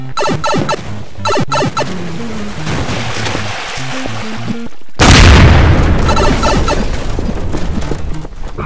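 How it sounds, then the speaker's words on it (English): A flashbang grenade goes off in Garry's Mod during a Super Mario-themed deathrun map: upbeat game music plays, then a sudden loud blast cuts in and leaves a roaring, ringing wash that slowly fades. "I got a flashbang"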